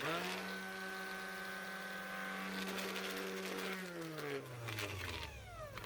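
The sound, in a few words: repaired Ryobi battery orbital sander running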